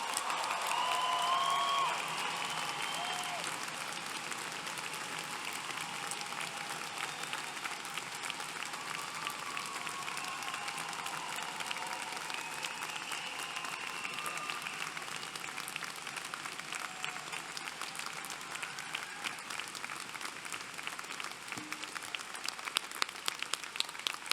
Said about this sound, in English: there was a time for truly thunderous applause. Now is that moment. Make some noise for all of our graduates.